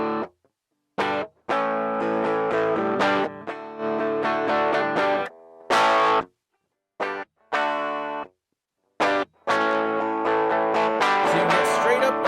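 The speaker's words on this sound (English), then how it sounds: "So you get straight up overdrive." Overdriven electric guitar through IK Multimedia MixBox's Boss DS-1 distortion model: loud, gritty chords and single notes played in short bursts, separated by several brief silent pauses.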